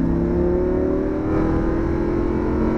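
A Lamborghini accelerates on the Homestead racetrack in Miami, its engine giving a loud, steady drone that rises gradually in pitch as it pulls out of a corner, with no speech.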